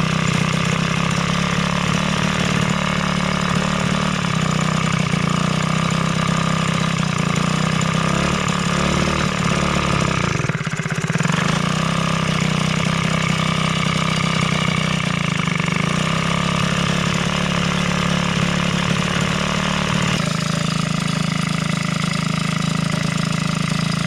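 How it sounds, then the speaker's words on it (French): A small engine with its choke just taken off runs at a steady idle, loud and close, holding a constant low drone throughout with one brief dip near the middle. "Démarrage à suivre. J'enlève le starter."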